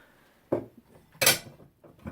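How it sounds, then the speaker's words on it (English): Ceramic bowls from Japan are handled, giving three distinct clunks and clinks of stoneware knocking together or set down, close by in a quiet room. "But I do have these bowls that I bought when I was in Japan"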